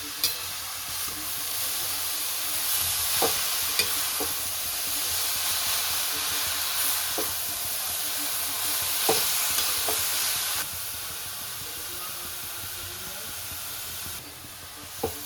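Grated carrot halwa cooks in homemade ghee in a pan, a steady close sizzle and hiss with occasional spatula scrapes and knocks as it is stirred, no one talking.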